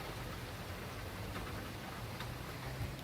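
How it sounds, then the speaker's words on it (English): Heavy rain falls steadily in a dense, even hiss with occasional faint drips, heard alone and fairly close. "it's raining really hard right now"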